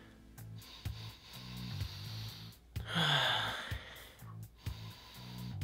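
Someone sniffs a bottle of Mountain Dew Ice soda up close: a sharp, breathy inhale stands out amid quieter breathing and faint background noise, with no talking.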